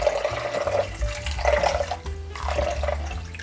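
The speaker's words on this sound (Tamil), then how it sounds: "கொஞ்சம் தண்ணி விடுவோம்." Water being poured into a pot of fish curry as it cooks, a steady liquid splashing and gurgling that swells and eases in several waves, close and fairly loud, with no talking.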